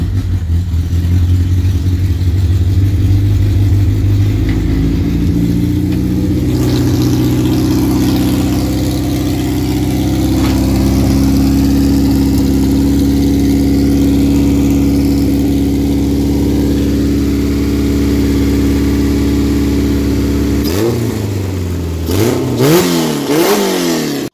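Honda B20 engine fitted with a Victor X intake manifold and coated header idling loudly and steadily up close, a deep continuous rumble with a slight change in tone partway, ending in a few quick revs.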